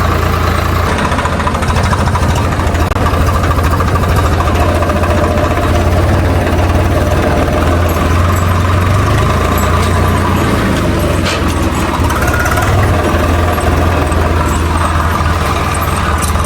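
A tractor engine runs while hauling a water tank, a loud, steady, close diesel drone with a knocking low rumble that holds throughout and carries no talk.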